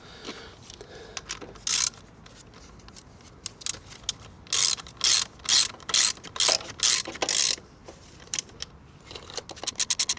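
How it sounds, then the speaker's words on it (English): Ratchet wrench tightening the rear sprocket on a Honda CB125F motorcycle, a run of quick mechanical clicking strokes in bursts, close and fairly loud, with quieter handling noise between. "Now we can tighten our sprocket."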